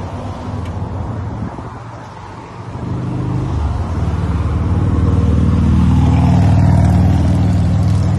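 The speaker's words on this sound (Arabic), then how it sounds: "نشوف المحركات وبعدها نشغل السيارة" A 1989 Chevrolet Caprice Brougham LS with a V8 engine starts up and settles into a deep, steady rumble that swells as it revs, close and loud, with no talking.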